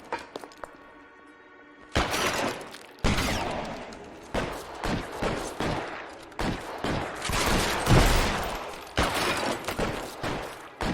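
Heavy gunfire in the video game L.A. Noire, a dense run of loud, overlapping shots and bursts including a trench gun, close and sharp with few gaps.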